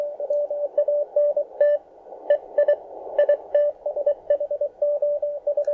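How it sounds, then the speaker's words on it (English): CW Morse code heard on a Tecsun PL-330 receiver: a steady, slightly distorted, buzzy tone keyed in quick dots and dashes over a faint hiss background, with no talking. "It's kind of like a buzzy sound because it's just a little too high."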